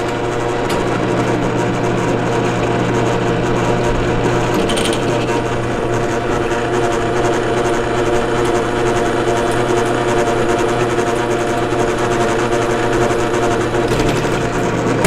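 A drill bores a pilot hole for a Road King windshield bracket on a 1986 Harley-Davidson Heritage Softail, whining loud and steady throughout with a constant mechanical drone.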